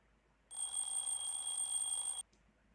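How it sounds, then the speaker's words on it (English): A video game alarm clock rings in one steady electronic burst of about two seconds, loud and alone, then cuts off abruptly into silence. "I wake up to the sound of my alarm clock and shut it off."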